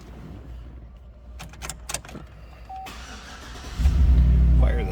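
A 2004 Chevrolet SSR roadster pickup starting up: a few clicks and key or door noises, a brief chime, then the engine cranks and catches into a loud, steady low idle close by.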